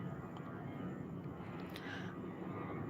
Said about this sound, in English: Sorry about the noise of the airplane.